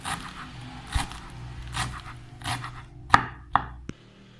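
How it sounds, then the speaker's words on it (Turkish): A knife finely chops parsley on a cutting board, a handful of firm irregular strokes close by, ending with a few sharper taps. "Ayıklayıp yıkadığımız maydanozlarımızı şöyle ince ince doğruyoruz."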